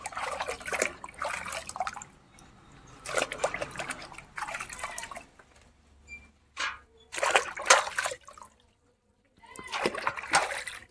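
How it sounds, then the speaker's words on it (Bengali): Water splashes and sloshes in bursts as a whole cut fish, fresh from a pond, is washed, with short pauses of trickling between the splashes and voices talking faintly in the background. "পুরো মাছটা কেটে সুন্দরভাবে একেবারে ধোয়া হচ্ছে"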